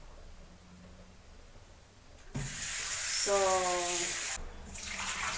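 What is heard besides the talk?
pouring cold water over cooked carrots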